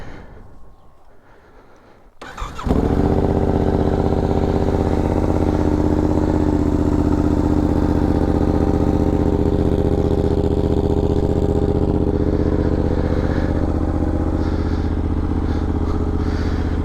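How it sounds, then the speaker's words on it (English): A 2021 Yamaha Tenere 700 motorcycle cold-starts after a brief quiet moment, then settles into a loud, steady idle with a throbbing, even rhythm that carries on alone. "We're gonna do a little cold start here."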